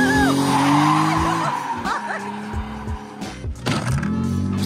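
A light manual-transmission car drives hard and skids, its engine note rising and dropping through shifts while tires squeal in long screeching arcs, loud and close.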